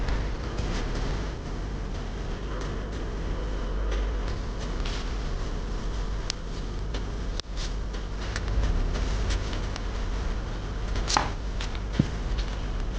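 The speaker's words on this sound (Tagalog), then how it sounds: "slice lang natin strip yung carrots" A knife slices carrots into strips for a bean sprout stir-fry, making repeated close cuts and taps on a board over a steady low background hum, with no talk.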